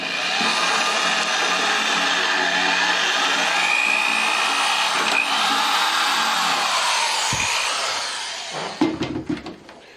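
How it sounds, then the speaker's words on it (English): A steady, loud power drill whines continuously for about eight seconds, drilling into the metal of a 1984 Cat Elm stove, then winds down into a few clattering knocks and handling noises. "So I drill it and I tap it"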